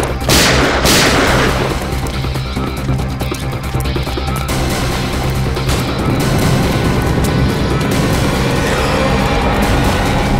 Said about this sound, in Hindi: ऊपर से सीआईडी के ऊपर फायरिंग